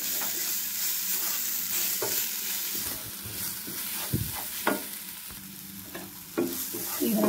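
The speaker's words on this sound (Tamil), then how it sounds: "இதையும் நல்லா மிக்ஸ் பண்ணி விட்டுருவோம்." Egg masala Maggi noodles being stirred and fried in a pan, a steady sizzle under repeated scraping strokes of the spoon, close and fairly loud, with no talking.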